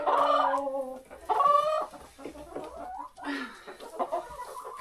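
Loud, close clucking and squawking from chickens in bursts on a cold winter morning, with softer murmuring calls between them.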